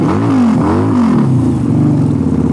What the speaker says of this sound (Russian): Это оно, это Харлей проехал.